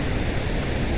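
Loud, steady rush of water at the Marsyangdi hydropower dam in Nepal, a dense unbroken roar filling the whole moment with no voices.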